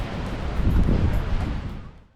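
Wind buffeting the microphone at Byron Bay beach, a broad rushing roar that swells in the middle and fades out toward the end, with no voices.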